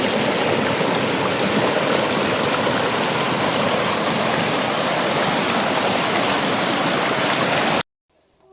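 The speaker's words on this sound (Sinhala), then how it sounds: "අහන් ඉන්නකෝ මේ වතුර ගලාගෙන යන සද්දේ" A stream in Kalawana rushing between rocks, a dense, loud, continuous wash of flowing water that runs steadily without pause before cutting off abruptly near the end.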